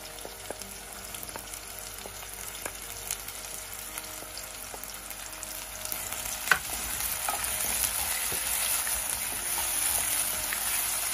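Green chili and chopped tomato frying in a pan before radish is added, a low, steady sizzle with occasional light ticks and a sharper clink partway through, growing slightly louder toward the end.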